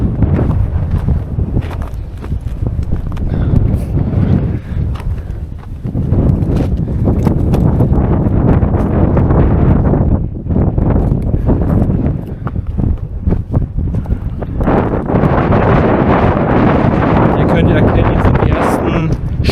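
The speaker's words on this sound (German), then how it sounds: "Übelster Wind." Strong gusting wind in old stone-walled mountain trenches buffets the microphone in loud, rough rushes, dropping briefly and surging back repeatedly.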